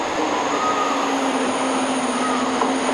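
A steady, dense rumble of a TGV train at a station platform, with a sustained low tonal whine and a broad hiss throughout, continuous and fairly loud, with no one speaking.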